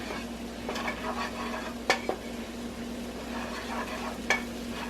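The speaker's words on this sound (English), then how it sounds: "Butter melt, go." Butter melting in a pan for an Alfredo roux, a low steady sizzle with a faint hum underneath and two or three sharp utensil clicks against the pan.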